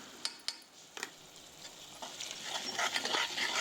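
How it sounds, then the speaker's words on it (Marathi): Spices, chilli powder, garam masala, coriander powder and salt frying in oil for a spinach and toor dal dish, a soft steady sizzle with a few sharp clinks of a spoon against the pan near the start. "तेलामध्ये फ्राय करून घ्या."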